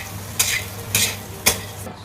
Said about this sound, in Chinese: 直接炒鸡爪和鸡翅